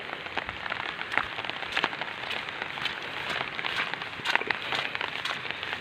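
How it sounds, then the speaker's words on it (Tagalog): Steady rain patters across a surface, a dense hiss with scattered louder drops and occasional crackles, continuous with no voices. "Ulan."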